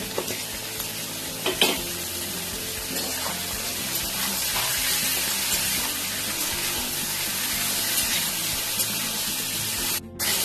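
Cut eggplant hits hot oil and fries with a loud, continuous sizzle and spatter, steady throughout with occasional stirring clatters, close and without any talking.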